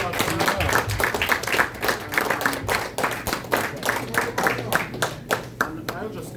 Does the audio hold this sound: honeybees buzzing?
no